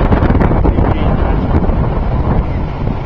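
Strong wind buffets the microphone at a model airplane flying field, a continuous loud low roaring rush with no pauses and no talk.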